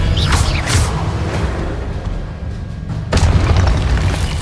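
Spell blasts from the video game Hogwarts Legacy, with a rumbling boom and whooshing bursts at the start and another heavy boom near three seconds, loud and full over a steady low background.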